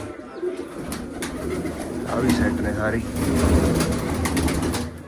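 Pigeons coo softly and repeatedly close by on a rooftop as they are fed grain, while a person talks over them, with faint rustling and background hum.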